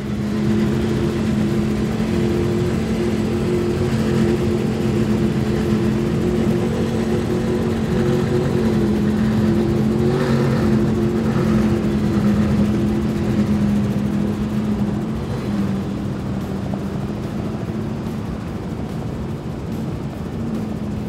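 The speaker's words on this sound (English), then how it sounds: "Those are the dual cowl motors running on 1350 today because they're only on 93 octane." An Outer Limits SL50 powerboat with twin Mercury Racing 1550 dual-cowl outboards, tuned to 1350 on 93 octane, runs with a loud, sustained engine roar and steady droning pitch for about twenty seconds.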